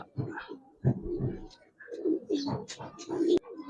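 Soft, low pigeon coos repeat in short throaty bursts close by, from a pair of Giribaz pigeons handled at a pigeon seller's, with faint chirps and small rustles between calls.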